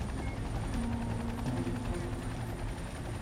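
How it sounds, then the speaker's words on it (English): A helicopter hovers low over an icy river during a rescue, its rotor drone loud and constant with a steady throbbing pulse. "The helicopter drops Priscilla a life ring."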